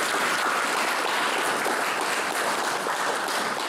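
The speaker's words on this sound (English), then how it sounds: "I want you to give her a round of applause." Audience applause at a church gathering, dense and even clapping from a large crowd, steady and loud for the whole stretch with no talking over it.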